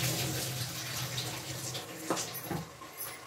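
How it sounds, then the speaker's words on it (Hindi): Flattened rice (poha) being rinsed in water in a home kitchen, a soft continuous watery swish and trickle with a couple of small splashes, fairly quiet and without talk. "तब तक हम अपना पोहा धो लेते हैं।"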